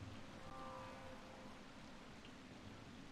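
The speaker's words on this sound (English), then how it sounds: "What a welcome sight your comely face offers amid this unwelcome rain." Rain falls in the video game Wild Hearts as a steady, dense hiss of drops, even and continuous throughout, with no voices.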